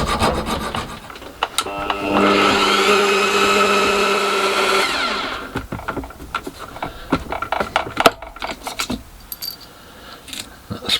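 A hand file rasps lettering off the head of a stainless steel bolt in a small workshop shed, with a steady close scraping run of about three seconds, then shorter irregular strokes and light clinks.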